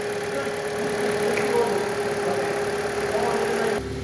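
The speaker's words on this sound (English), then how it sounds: "here's a shot of the exhaust with the motor running" A 2019 Hyundai Elantra engine idling with the exhaust close by, a steady even hum with a faint ticking texture, constant in level until it drops off at the very end.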